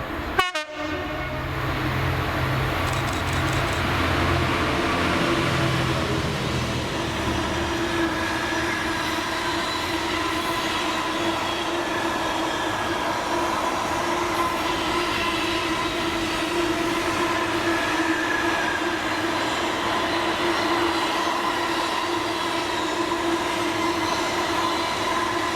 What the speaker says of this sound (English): we see 66718 running 4S69, the 1604 Doncaster Port to Elderslie, seen here passing Helington East